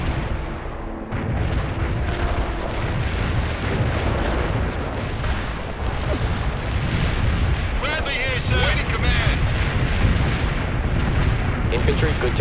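Mortar barrage in the World in Conflict war game: a continuous rumbling roll of overlapping booms and blasts that fills the whole stretch, loud and dense, with battlefield noise and brief radio-style voices mixed in.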